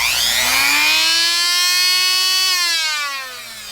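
A rotary power tool runs at full speed with a loud, steady high-pitched whine that rises slightly, then begins to wind down near the end, close up with no talk.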